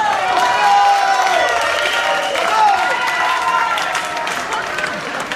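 An audience at a live architecture presentation on Parisian Haussmann buildings claps and cheers, with a sustained crowd roar and scattered voices throughout, easing slightly toward the end.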